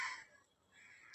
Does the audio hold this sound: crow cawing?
yes